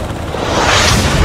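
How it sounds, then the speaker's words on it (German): In the video game House of Ashes, rocket fire strikes a helicopter, a loud roaring blast with a rising whoosh that fills the whole moment without pause. "Oh, Raketenbeschuss auf den Helikopter."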